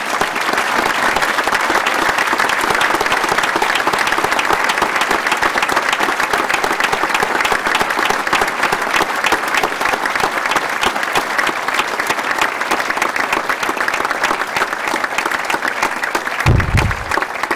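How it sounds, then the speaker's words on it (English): Sustained, loud audience applause fills a hall at a school commemoration day prizegiving, a dense steady clatter of many hands lasting throughout, with a brief low thump near the end. "Please give a round of applause for her life and her work."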